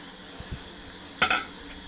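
A spoon scrapes and clinks against a metal pan a few times, with soft taps first and then a louder clatter, while stirring a date mixture.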